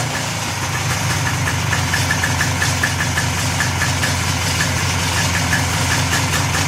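A Polaris 4x4 ATV engine idles close by with a steady, slightly knocking putter that continues unbroken throughout.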